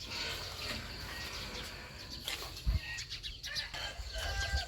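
Chickens cluck and a rooster crows amid a busy outdoor background, with scattered bird calls and brief bumps, moderately loud and close.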